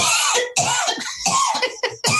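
A run of harsh, explosive coughs in quick succession, close and loud, with brief gaps between bursts.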